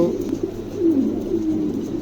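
Pigeons in a market stall, soft repeated cooing that stays low and steady, close by, with no voices over it.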